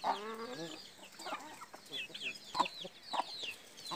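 Chickens clucking and squawking near at hand while corn meal feed is set out for them, several birds calling in uneven bursts over a few seconds.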